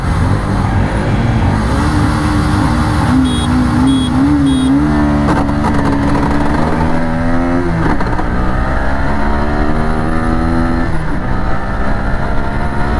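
Several 125cc motorcycles, a Bajaj NS125, Hero Xtreme 125R and Honda SP 125, revving hard at a drag race start, with steady loud engine drone and rising pitch sweeps as they accelerate through the gears.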